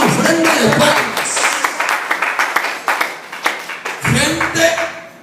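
Church congregation clapping as an offering of applause, a full room of hands beating steadily and fairly close, with voices mixed in under the clapping.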